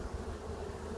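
Honeybees buzz at an open beehive, a dense, continuous droning hum from many insects close by, steady and fairly loud with no talking.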